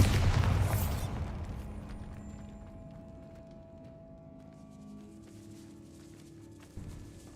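A loud booming blast from the Bombarda spell in a Harry Potter video game, bursting at the start and then decaying into a long, fading rumble, with a small thud near the end.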